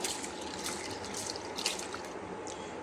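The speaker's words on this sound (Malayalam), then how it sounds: "അതിലേക്ക് വെള്ളം ഒഴിച്ചിട്ട് നന്നായിട്ട് കഴുകിയെടുക്കാം കഴുകി ഊറ്റി വയ്ക്കാം" Water draining and trickling away from freshly washed chana dal, a steady soft splashing and dribbling, close and fairly quiet, with no talk.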